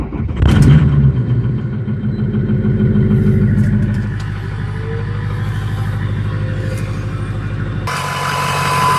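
A 6.0 truck engine, unstarted for three weeks, turns over and fires on a cool start, then settles into a loud, steady diesel-like idle rumble that runs on with no talk.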